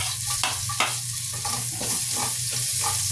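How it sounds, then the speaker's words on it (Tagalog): Garlic sautéing in rendered pork fat for pork afritada sizzles steadily and up close, with a spoon stirring through it in repeated scrapes and no talking. "Gisa lang natin hanggang sa lumabas yung amoy o yung mga amoy na yan"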